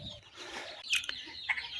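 Native chicken chicks newly hatched in an incubator give faint, high peeping chirps, a few short calls standing out over a quiet, hissy background.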